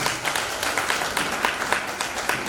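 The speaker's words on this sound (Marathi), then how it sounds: "त्या नावासाठी जोरदार टाळ्या होऊ द्या." Audience applause at a dance and garba event rolls on as dense, steady clapping from a crowd, fairly loud and continuous with no talk over it.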